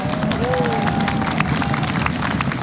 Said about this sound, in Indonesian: tepuk tangan sekali lagi yang meriah untuk Mahdi dari Surabaya